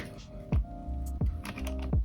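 Keys on a MacBook keyboard tapped to test them after reseating the ribbon cable, a few sparse, close clicks over a faint steady hum, with no talk.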